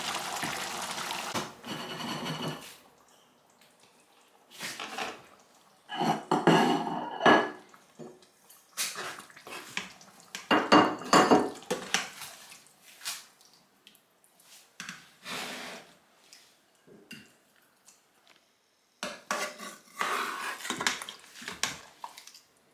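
Pounded yam worked in a pot produces intermittent bursts of heavy thuds and scraping clatter, separated by near-silent pauses; no one speaks.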